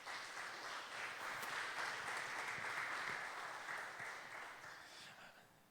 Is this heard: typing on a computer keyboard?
no